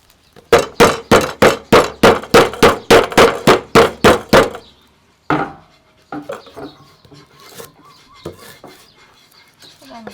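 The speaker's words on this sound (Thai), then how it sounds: "มีหั่นข่าหั่นตะไคร่ครับผม" A knife chops quickly through firm galangal and lemongrass stalks on a cutting board, about a dozen steady strokes, then slower, irregular slanted cuts, loud and close.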